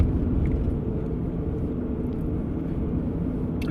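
Steady road rumble and engine drone of a car driving along a rural road past a Walmart, continuous and fairly loud with no talking.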